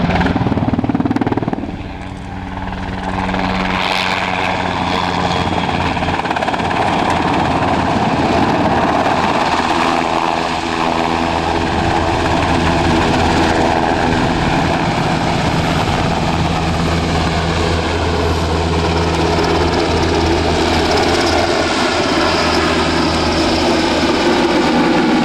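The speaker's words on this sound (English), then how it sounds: "A medium lift helicopter, broadly similar to our Puma" A German Army NH90 TTH medium-lift helicopter puts on a flying display at an air show, its rotor thrum and turbine whine loud and sustained. The drone swells and shifts steadily as the aircraft manoeuvres overhead.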